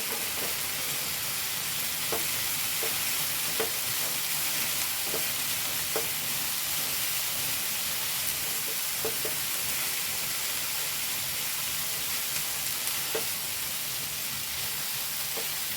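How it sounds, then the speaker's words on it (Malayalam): Food fries in a pan with a steady broadband sizzle while turmeric powder is stirred in, and spoon scrapes click at irregular intervals through the constant hiss, close and moderately loud with no talking. "ശേഷം മഞ്ഞപ്പൊടി ഇട്ടത് ഇളക്കി മിക്സ് ചെയ്യട്ടെ"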